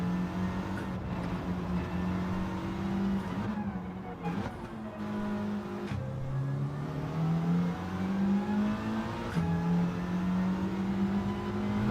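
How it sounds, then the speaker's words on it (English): Subaru WRX and a Mitsubishi pulling away together, a steady, loud engine drone with rising tone as both cars accelerate, continuous and close for the whole stretch. "Both the WRX and the Mitzi both pulled away at just the same sort of pace then"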